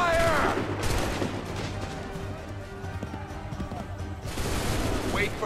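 A volley of musket fire rings out in the Assassin's Creed III video game, a loud close burst of shots at the start and another near the end, with a commanding voice shouting between them.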